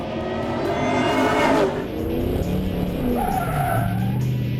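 A Ford Mustang GT pushed hard on a police EVOC training course, its engine revving loudly and close up while the tires squeal and skid in long continuous bursts.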